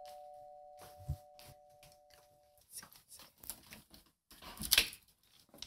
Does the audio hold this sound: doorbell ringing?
yes